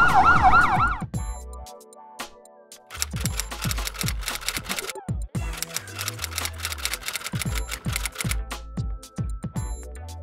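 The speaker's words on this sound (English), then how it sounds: "And the ambulance had arrived and took Mortimer to the hospital right away" An ambulance siren from The Sims 2 wails briefly at the start, followed by a busy run of rapid clicking, clacking game sounds and low thumps that continue to the end.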